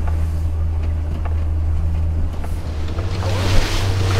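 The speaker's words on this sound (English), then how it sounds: "you're hitting the waves at another 8 miles an hour closing speed" Small fishing boat off the South Coast punching into steep waves at speed, with a steady low engine drone, wind buffeting the microphone and repeated thumps and splashes of the hull hitting the water.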